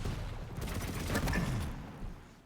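Rocket launcher fire in a competitive arena shooter match, a dense boomy blast with a sustained rumbling roar that swells and then fades over about two seconds, loud and close with no voices.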